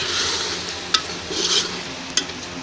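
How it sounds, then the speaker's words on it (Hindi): Green beans roast in a hot pan, a steady close sizzle with occasional sharp scrapes of a stirring spoon against the metal. "फलियों को हम 2 से 3 मिनट के लिए भूनेंगे"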